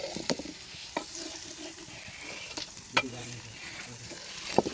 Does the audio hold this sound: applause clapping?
no